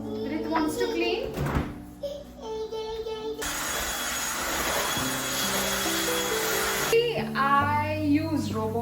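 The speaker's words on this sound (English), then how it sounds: "for spot cleaning, I always prefer to use the hand vacuum because it's easy and I can do it really quick" A handheld vacuum cleaner runs steadily at close range for spot cleaning in a home, a continuous broadband whir lasting several seconds, with a child and an adult talking before and after it.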